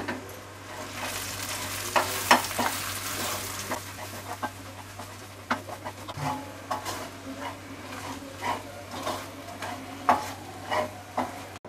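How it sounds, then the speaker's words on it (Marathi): Ground masala paste for spicy mutton sukka is stirred and fried in oil, giving a steady close sizzle broken by repeated scraping stirs against the pan. "आता हा वाटलेला मसाला आहे ना तो आपल्याला तेलामध्ये एकजीव करून घ्यायचा आहे."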